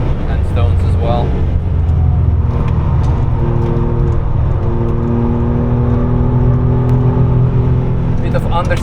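Porsche 996 sports car driven hard on the Nürburgring, its engine revving up and down through gears in a continuous loud in-car drone, with someone talking over it.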